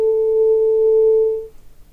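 A steady, pure pitched tone from a tuning fork picked up by an electric guitar pickup, holding evenly for about a second and a half before cutting off.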